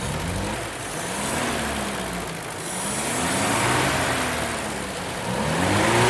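Monster truck engine rumbling and revving as it draws nearer, a continuous loud growl with rising and falling sweeps and no talking.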